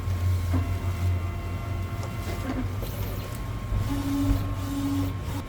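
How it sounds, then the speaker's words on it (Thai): An A3 DTF printer with two printheads runs continuously, giving a steady mechanical hum with faint whirring carriage tones rising at intervals. No voices are heard. "เครื่องก็จะทำการพิมพ์ไปเรื่อยๆนะครับ"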